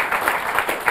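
An audience claps for a speaker, a brief dense burst of steady applause, close and continuous.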